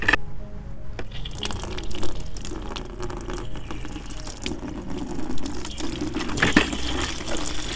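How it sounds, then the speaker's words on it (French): Water pours steadily from a tap into a large tank, a continuous splashing rush with a few small knocks. "Je vais essayer d'ouvrir le robinet pour voir."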